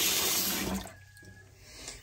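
Tap water pours loudly into a cooking pot to cover wild turkey meat, a strong rushing splash that eases off partway through and then continues more softly.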